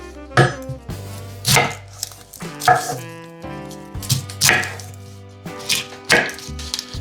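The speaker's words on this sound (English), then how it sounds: "First thing we're gonna do is cut up these vegetables. Let's get this onion out of the way." A knife chops through an onion on a cutting board while preparing vegetables for corn and crab bisque, with close, crisp strikes coming in several quick bursts separated by short pauses.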